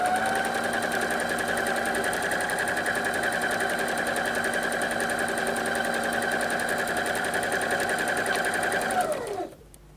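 A sewing machine runs at a steady, loud whirring hum while backstitching a dress skirt seam, continuing unbroken for several seconds before winding down and stopping near the end.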